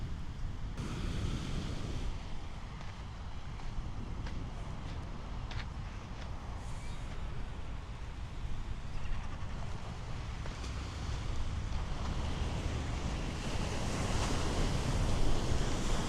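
Ocean surf washes onto the beach at Point Mugu near Mugu Rock, a continuous rolling roar mixed with gusty wind buffeting the microphone. The waves swell slightly louder toward the end, and no voices are heard.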